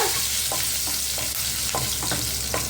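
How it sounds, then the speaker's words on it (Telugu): Urad dal, mustard seeds and cumin frying in hot oil for a sweet potato curry, a steady dense sizzle with repeated crackling pops and stirring scrapes throughout, close and continuous with no talking. "మినపప్పు, ఆవాలు, జీలకర్ర ఎండు మిక్స్ చేస్తున్నాను"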